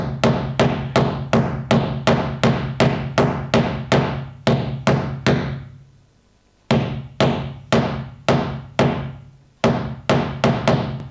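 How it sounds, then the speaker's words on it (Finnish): Repeated hammer blows, struck while mounting a wall clock, land in a steady run of sharp thuds, then pause and resume in several more bursts. The blows are close and loud with no talk over them. "Lyön sen nyt tohon vasaralla näin."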